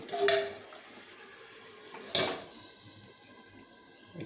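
A lid is set onto a cooking pot in a home kitchen, giving a sharp metallic clank near the start and another about two seconds later, with faint clinks and a quiet hum between them.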